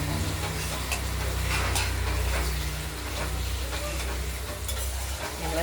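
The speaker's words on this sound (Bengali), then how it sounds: "মশলাটা কষানো চলছে, এখনো কষানো হয়নি" Spice paste for a paneer curry with potato and tomato frying in oil in a pan, a steady close sizzle with stirring scrapes and a low continuous hum underneath, no talking.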